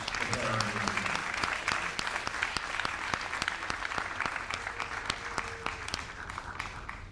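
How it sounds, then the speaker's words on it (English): Audience at a high school senior awards ceremony applauding, sustained crowd clapping with sharp individual claps throughout, fairly distant and even. "Just a round of applause for all their hard work."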